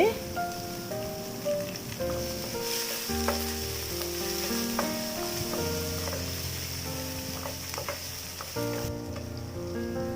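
Chopped onions and four thin green chillies frying in oil for chicken biryani, a steady loud sizzle with stirring scrapes throughout, plus some background music or tonal sounds.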